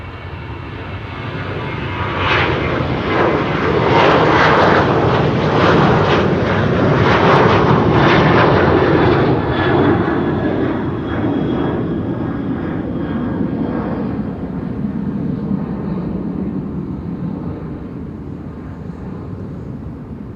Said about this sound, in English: we're going to see KLM flight 591 to Johannesburg South, which will be a 777-300.